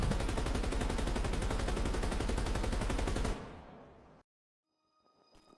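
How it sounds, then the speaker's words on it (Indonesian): Rapid, sustained bursts of gunfire rattle loudly for a few seconds, then fade and cut to silence, followed by faint sounds. "hanya suara tembakan yang datang berulang-ulang"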